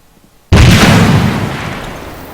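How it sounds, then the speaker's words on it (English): A single loud frag grenade blast in ArmA 3, erupting sharply after a brief quiet moment, then a long rumbling decay that fills the rest of the moment. "And then of course grenades. Just frag these green dudes over here."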